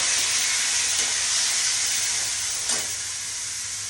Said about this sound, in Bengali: চিকেনগুলোকে অল্প ফ্রাই করে নিয়েছি বাটার আর সাদা তেল দিয়ে।